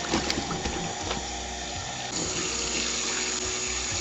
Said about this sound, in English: Now we are just going to rinse.